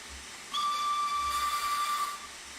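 A steam locomotive whistle on the Darjeeling Railway in Train Simulator Classic sounds one long, steady, piercing blast lasting about a second and a half, with a hiss of steam beneath it, loud and close.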